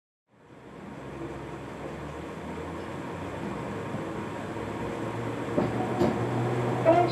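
A train pulls into a station with a steady rumbling roar that swells gradually, ending with a few squeals and clanks as it comes to a halt.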